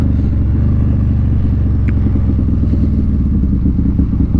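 A Harley-Davidson Road Glide rides along with a loud, close, low rumbling exhaust pulse and a steady throbbing cadence over wind noise.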